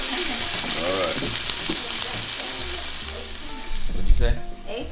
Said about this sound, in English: It's gonna sizzle, sizzle.